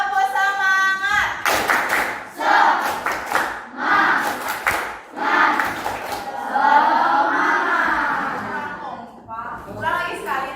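A school class doing a rhythmic spirit clap, bursts of group hand claps in short patterns alternating with children chanting and shouting in unison.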